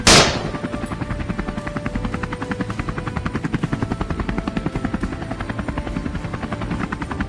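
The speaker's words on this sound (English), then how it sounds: "John's helicopter changed course instantly, shooting through the sky like an arrow" A helicopter flies during a wild boar hunt, its rotor chop loud and steady throughout with a fast pulsing beat and a continuous engine whine above it.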